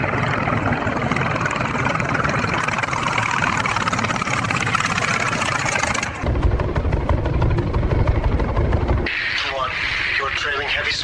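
Piston engine of a WW2 Mitsubishi A6M Zero fighter on a carrier deck, a loud continuous droning roar with an abrupt shift in tone partway through, over music and narration.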